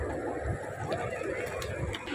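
Pigeons cooing at a mosque in Madinah, a soft low murmuring coo that runs steadily under a faint ambient hum of the surroundings.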